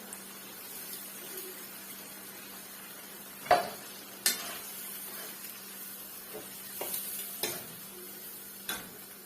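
Fresh tomatoes for a Nigerian eggplant dish hit a frying pan, giving a steady soft sizzle with a few sharp clinks and stirring knocks, the loudest near the middle, and no one talking.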